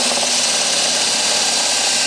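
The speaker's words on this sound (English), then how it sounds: "Got the old 5/8 spade bit here. Let's see if we can get this drilled out." A 5/8 spade bit in a power drill bores out a hole near the steering column of a small power-racing kart, giving a steady, loud, continuous whine and grind with no pauses.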